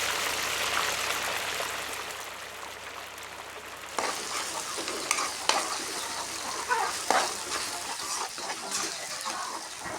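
A spoonful of ginger garlic paste sizzles in hot oil in a pan while being stirred, with a steady frying hiss and sharper scraping stir strokes breaking in repeatedly over the second half.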